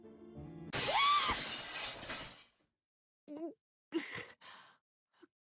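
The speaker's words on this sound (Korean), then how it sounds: "유리창이 깨졌다." A glass window shatters suddenly, a loud crash with bright tinkling debris lasting about two seconds, followed by brief gasps and sighs from people nearby.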